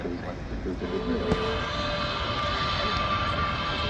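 Aegean airliner taxiing at Manchester Airport, a steady broadband jet engine roar heard from a viewing park, continuous and fairly loud with a brief thump midway and faint voices in the background.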